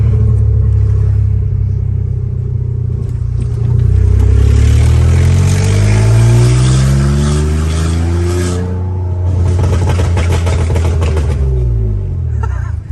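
A BMW E46 drift car engine cranks and fires up, then revs hard in repeated rising and falling sweeps, loud and close, with a rough idle between pulls and no talking.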